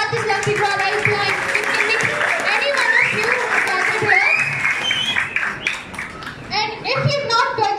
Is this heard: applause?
yes